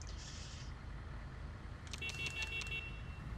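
A car horn honks in the LSPDFR police mod for a driving game, stopped at a traffic light. Several short, bright blasts sound over a steady low traffic and engine rumble.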